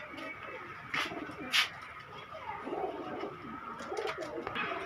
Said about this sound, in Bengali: পুরোটা বাজিওয়ালা কবুতর।